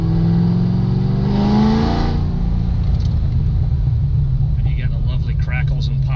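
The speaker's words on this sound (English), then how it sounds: "And you get the lovely crackles and pops." Corvette C6 ZR1 with a titanium exhaust, its engine rumbling loudly and rising in a rev before settling, with scattered crackles and pops near the end of the close recording.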